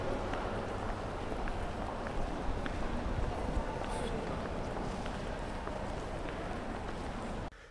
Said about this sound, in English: So just took a little loop of some people walking around.